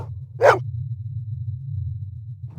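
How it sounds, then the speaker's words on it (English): A dog in the 1997 Blade Runner video game gives a single sharp bark over a low steady electronic hum, with a second bark just starting at the end. "Who's the best dog in the whole world?"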